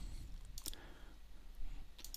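A few crisp, quiet computer mouse clicks sound close by while working in After Effects, spaced irregularly over a faint steady background hum.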